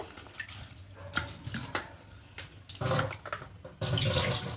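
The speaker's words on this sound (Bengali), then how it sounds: "এবার এই জলটাকে ফেলে দেব।" Water used to wash flour dough being poured away into a sink, an irregular splashing and gurgling that comes in uneven bursts, growing louder toward the end, with no talking.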